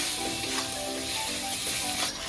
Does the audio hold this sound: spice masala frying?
yes